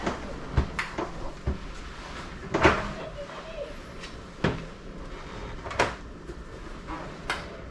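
A few soft thumps and clunks from a full-size refrigerator door being opened and handled up close in an RV, with scattered knocks and faint background noise, no talking.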